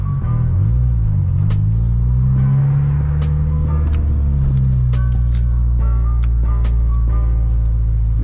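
Honda Integra GSR with a refitted muffler, heard from inside the car: a low, loud exhaust drone rising and falling with the revs, with clicks and knocks on top and no talk.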